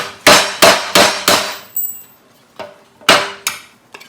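Hammer strikes on sheet metal formed over a golf ball to raise a dimple: a quick run of four sharp, ringing metallic blows, a pause, then a few more hits, loud and close with no talk.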